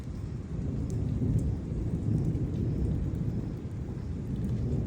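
Steady rain during a thunderstorm with low rolling thunder, a dense, loud rumbling wash that fills the whole stretch with no voices.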